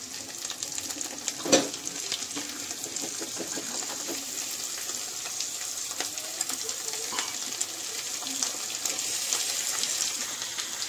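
Chicken pieces frying in a pan with ginger garlic paste for a spicy village-style chicken curry, a steady close sizzle throughout with a brief louder splash or stir near the start.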